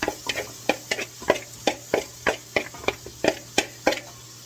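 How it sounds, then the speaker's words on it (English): Diced onions being stirred in bacon grease and butter for baked potato soup, a steady run of about a dozen sharp scraping stirs in a regular rhythm over a soft sizzle, close and clear with no talk. "you're just going to stir those around until they get translucent"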